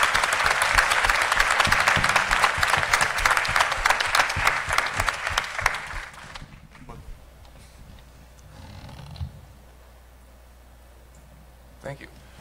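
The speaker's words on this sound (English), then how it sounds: "Please give him a round of applause." An audience at a film press conference during a New York film festival gives a cinematographer a loud, dense round of applause that stops abruptly after about six seconds, followed by a quiet room with faint speech.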